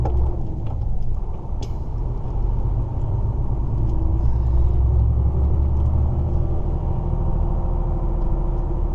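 A car drives down toward a port with a steady, loud low engine and road rumble throughout, no talking.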